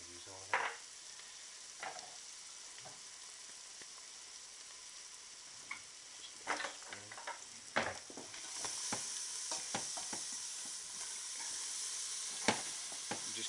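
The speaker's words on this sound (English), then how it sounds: "Just give them a fry for a few minutes and see how quickly they start to caramelise up straight away." Shallots coated in sugar fry and caramelise in a pan with a soft, continuous sizzle. Scattered crackles and pops come through, and the frying grows denser and louder in the second half.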